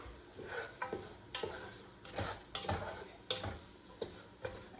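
Scotch broth stew in a smoking pot being stirred, with a spoon knocking and scraping in repeated strokes about every half second over a faint low sizzle, with no voices.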